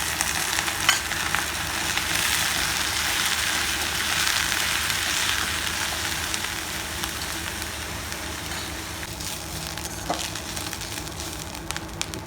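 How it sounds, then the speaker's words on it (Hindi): Chopped bamboo shoots (karil) fry with chillies in a pan, giving a loud, dense, steady sizzle up close. Occasional soft stirring scrapes come through, and no voices are heard. "एमा डाल देबो हमार करील ला अगले बढ़िया से भून लेबो।"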